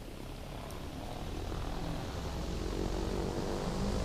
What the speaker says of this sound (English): And I did not think that turboprop planes were this fast.